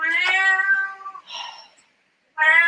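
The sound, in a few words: cat meowing loudly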